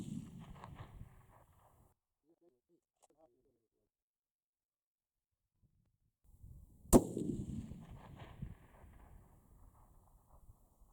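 A Ruger Precision Rifle chambered in .338 Lapua Magnum fires a single sharp, loud report that trails into a rumbling decay, following a near-silent pause after muffled talk.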